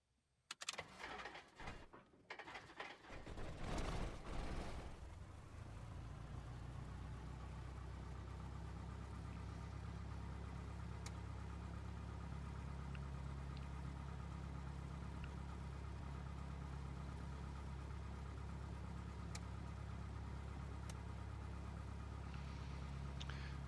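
A Cessna 172 piston engine starting in a flight simulator: a few seconds of sputtering, uneven cranking and coughs, then the engine catches and settles into a steady, droning idle that goes on to the end.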